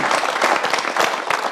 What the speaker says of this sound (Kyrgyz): Кол чабуулар менен узатып коелу.